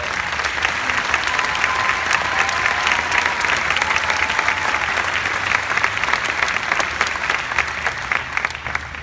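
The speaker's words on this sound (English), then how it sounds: "Let's give him a big round of applause" An audience gives a sustained round of applause at a formal Armed Forces event, dense, even clapping filling the room at close range without a break.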